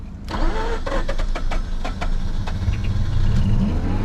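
A car engine with low compression cranks and catches after a jump start, with a burst of rapid starter turnover followed by an uneven, sputtering idle with throttle blips, close and loud with no talking.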